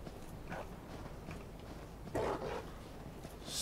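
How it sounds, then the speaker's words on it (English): Dogs or wolves bark in the Dark Souls 3 Ashes of Ariandel DLC, a few faint, scattered barks over a low ambient rumble with soft footstep-like thuds. "Stop the barking!"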